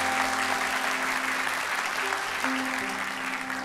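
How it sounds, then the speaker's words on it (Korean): A church congregation at a Sunday worship service applauds to welcome a guest, with sustained clapping from many people at medium volume over a low steady hum. "우리 일단 큰 박수로 한번 환영하겠습니다."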